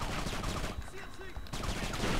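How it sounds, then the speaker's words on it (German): Rapid bursts of gunfire in the video game Kane & Lynch 2: Dog Days, dense and loud, briefly easing in the middle before resuming, with a faint voice underneath. "ich muss mir zuerst den Weg freischießen"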